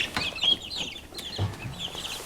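Small poults cluck and peep in a brooding pen, with short chirpy calls scattered over a couple of seconds alongside a few low, soft clucks, close and clear with no talking.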